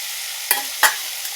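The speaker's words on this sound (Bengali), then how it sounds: "এইভাবে আস্তে আস্তে আস্তে আস্তে ভাজতে হবে। দেখুন এই যে আমি ভাজছি," Fish maw (fish swim bladders) frying slowly in a pan, a steady soft hiss with two sharp crackling spurts as pieces are stirred or turned.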